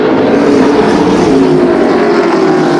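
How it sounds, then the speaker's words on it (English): Pro Late Model race cars at Flamboro Speedway run nose to tail into turns 1 and 2, a loud continuous engine roar with a slowly falling pitch, no voices over it. "those top 5 cars still basically nose to tail as they dive back into turns 1 and 2 here on lap number 38 of this one"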